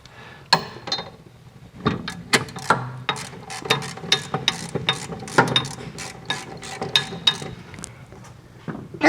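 Ratchet with a long-neck thin wall socket turning a nut on a 1972 Super Beetle strut: loud, close, repeated clicking strokes in steady bursts across the whole stretch, without talk.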